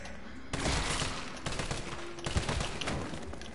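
Assault rifle fire in the Resident Evil 3 Remake video game: dense, rapid bursts of gunfire that come in back-to-back volleys, fairly faint and with no talk over them.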